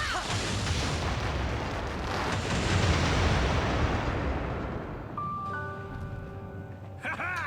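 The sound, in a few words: explosions in Beyond Good and Evil video game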